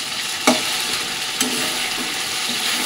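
Chicken coated in spice paste sizzles steadily in a pan, with two clear scrapes of the spoon stirring it and softer stirring after. No one speaks.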